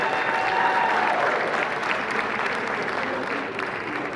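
An audience at an Army football awards ceremony applauds the honorees, a dense sustained clapping that holds steady at moderate loudness and tapers slightly toward the end.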